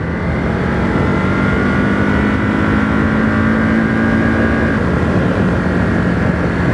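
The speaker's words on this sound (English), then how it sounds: "A really nice torquey engine." Engine of a 2023 Ducati Monster SP motorcycle while riding along country roads, a loud steady droning hum with a constant pitch and rushing wind, no speech.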